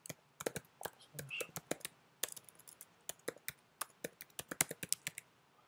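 Quick, irregular clicking of keys on a computer keyboard as a comment is typed, with close, fairly soft keystrokes in bursts and short pauses.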